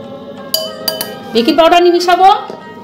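A metal spoon clinks against a bowl a few times while baking powder is stirred into oat cake batter, the sharp taps close and clear, with a voice carrying through the latter half.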